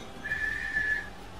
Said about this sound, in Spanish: Vamos a silbar